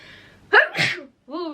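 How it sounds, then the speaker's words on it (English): A single sharp sneeze from a woman indoors, close and loud, with a quick intake before the burst and a short voiced sound from her right after. "Oh, I'm gonna sneeze."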